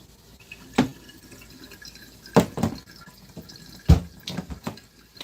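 Water from a tap falls in a few sharp, separate drips and splashes over several seconds, each a brief bright plink over a faint watery background, near and moderately loud.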